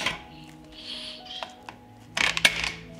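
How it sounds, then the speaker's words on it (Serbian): A pressure cooker lid is fitted and locked shut, giving a few light metallic clicks and one sharper clatter of metal on metal near the end, close and otherwise quiet. "Zatvorit ću ekspres lonac"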